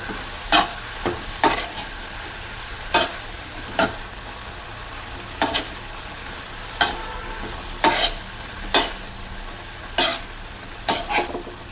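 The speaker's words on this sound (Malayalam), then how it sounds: "മഞ്ഞൾപ്പൊടിയും മുളക് പൊടിയും മല്ലിപ്പൊടിയും ചേർത്ത് നന്നായിട്ടൊന്ന് ഇളക്കാം." Turmeric, chili and coriander powders are stirred into frying onions, with a constant low sizzle punctuated by about a dozen sharp, regular spatula scrapes against the pan, close and loud.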